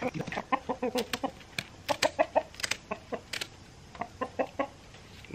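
Several chickens cluck close by in quick, uneven bursts of short calls, with brief pauses between flurries and no talk.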